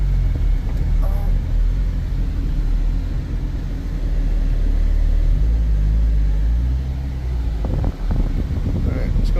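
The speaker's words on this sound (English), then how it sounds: "let's go for a cruise" An Infiniti G35 drift car with a freshly replaced shifter control rod rumbles along on a cruise, its low engine drone steady and close with wind noise, while people talk over it.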